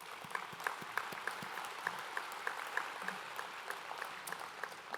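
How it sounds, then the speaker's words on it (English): Applause from a summit audience, fairly faint and distant, a steady wash of many hands with scattered sharper individual claps standing out throughout. "Could we give them a round of applause again?"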